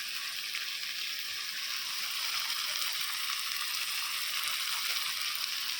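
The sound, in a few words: shrimp frying in mustard oil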